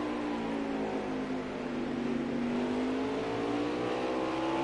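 Race cars in a NARL Xfinity Series sim racing game at the Charlotte Roval, engines droning steadily and close together with a rising and falling pitch through the infield section, with no voices.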